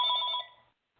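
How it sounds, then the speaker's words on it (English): A telephone rings with one bright, buzzing electronic ring that is loud and near, lasts under half a second and then fades into silence. "Wait, I have a phone call."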